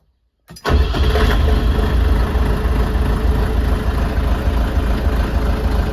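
Mini tractor engine cranking and catching after a relay was wired in, starting abruptly from silence and settling into a loud, steady close idle rumble.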